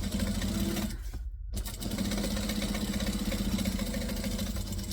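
A sewing machine runs a steady, close buzzing stitch through fabric, stops for a short moment to back stitch, then carries on humming evenly to the end.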